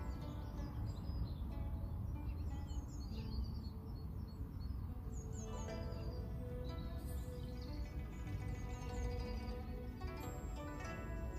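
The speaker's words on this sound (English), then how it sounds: "Really enjoying the birds singing around me." Birds chirp and sing outdoors during a Tai Chi session, a steady chorus of small calls over a constant low background hum.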